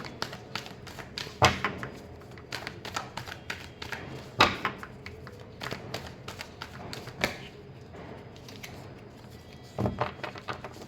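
Tarot cards being shuffled by hand during a love reading: soft papery riffles and taps come in a few louder bursts spread across a quiet, steady background, with no talking.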